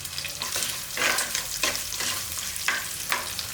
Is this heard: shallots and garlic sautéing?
yes